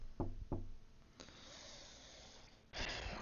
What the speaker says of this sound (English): There's somebody at the door.